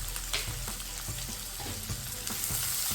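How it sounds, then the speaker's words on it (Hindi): Chopped garlic and ginger sizzle steadily in hot oil in a pan, with intermittent stirring scrapes and clicks; close, continuous frying with no talking. "इन सबको अच्छे से सौते करेंगे।"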